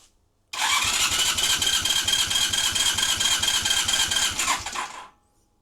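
A motorcycle engine with both spark plugs removed, standard airbox and carbs fitted, cranks on the starter with the throttle wide open, a steady rapid chugging rhythm for about four and a half seconds, close and loud, then stops.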